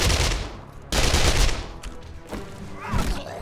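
Weapon gunfire in 7 Days to Die, loud close bursts of rapid shots with heavy thumps, coming in two or three volleys.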